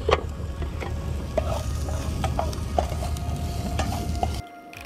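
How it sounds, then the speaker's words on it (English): Garlic and fish frying in hot oil in a pan, a steady loud sizzle with occasional scraping and stirring clicks, then cutting off abruptly at the end. "So we have a hot pan. Put some oil."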